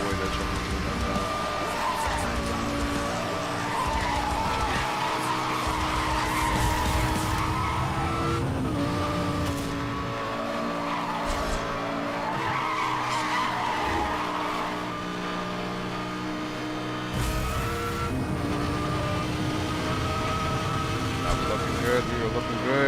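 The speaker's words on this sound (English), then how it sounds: "That truck was drifting." A truck drifts in a video game with loud, sustained tire squeal and skidding over a busy engine roar, continuous and close for the whole stretch, with steady game sound underneath.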